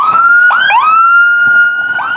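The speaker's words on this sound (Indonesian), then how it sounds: "ada mobil ambulans" A toy ambulance siren wails loud and close, a continuous electronic tone with quick up-and-down pitch sweeps and no talking.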